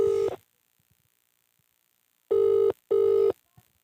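A telephone call to a councillor's number goes unanswered, giving a steady electronic ringback tone in three bursts: one cut off at the start, then two closely spaced rings separated by silence.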